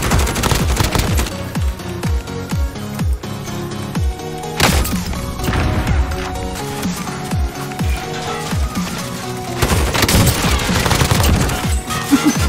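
Pumpkin Punisher gun in Modern Warfare's Verdansk firing loud, rapid automatic bursts, repeated volleys with heavy thumps and a sharp crash near the middle.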